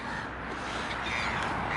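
Crows caw in a loose outdoor flock, a steady jumble of harsh calls over constant background noise, with no talking.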